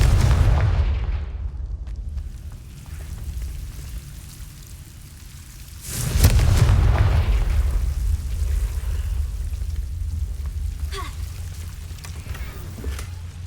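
Confringo spell blasts in the video game Hogwarts Legacy land as a loud, deep boom that rolls into a rumbling tail. Lower rumble fills the time before and after the blast.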